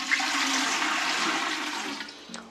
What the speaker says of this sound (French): on remplit le Berkey jusqu'à un niveau d'eau supérieur au Black Berkey